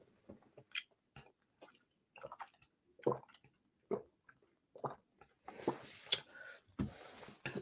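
A woman picks up her water and drinks, with small handling clicks, bottle or cup noises and wet sipping and swallowing sounds close by, spaced out in irregular bursts.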